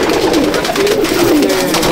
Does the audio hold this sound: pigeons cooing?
yes